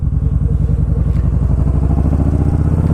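A Kawasaki Vulcan Vaquero motorcycle rides around a roundabout, its engine a loud, steady low rumble with pulsing firing beats throughout.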